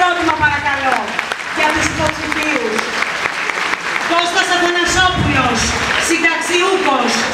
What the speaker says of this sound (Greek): Θέλω δυνατό χειροκρότημα, παρακαλώ, για τους υποψηφίους.